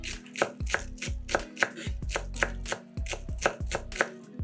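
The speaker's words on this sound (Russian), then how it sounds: "Нарезаем зеленый лук." Steady knife chopping of green onion on a board, a series of sharp, evenly spaced thuds repeating at a brisk rhythm, close and clear with no talking.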